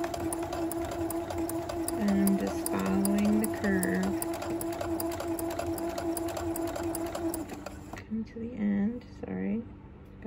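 A sewing machine back-stitches a fabric face mask seam, a steady close mechanical whir and rapid needle chatter under a voice, stopping near the end.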